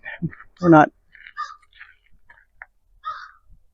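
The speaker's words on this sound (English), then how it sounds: "the crows are going bonkers" Crows caw loudly over a backyard vegetable garden, several harsh calls in a quick cluster followed by scattered fainter caws and clicks.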